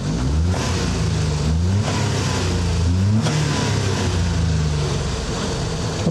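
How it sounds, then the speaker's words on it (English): A 1987 Daihatsu Atrai EX Turbo kei van's 550cc engine revs up and down several times close by, a loud, buzzy mechanical roar that rises and falls without pause. "that ticking is fairly normal for, you know, a 550cc older engine like this"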